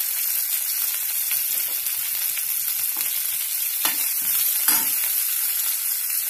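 Garlic and coriander leaves sizzling steadily in hot oil, a loud continuous frying hiss with occasional stirring scrapes, no voices.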